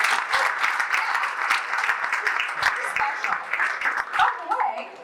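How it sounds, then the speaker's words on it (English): Audience applause fills a benefit gala evening, dense steady clapping from a large crowd with some voices mixed in, continuous for the whole stretch and fairly close. "Give yourselves a round of applause, please."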